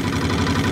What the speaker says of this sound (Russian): И мотор начал что-то выпендреживаться. Холостой ход не держит как надо.